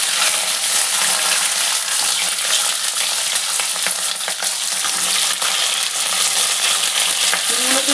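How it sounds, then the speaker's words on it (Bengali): Flat beans frying in hot oil tempered with nigella seeds, a loud steady crackling sizzle that continues without pause and has no talk over it. "শিমগুলোকে দিয়ে দিচ্ছি।"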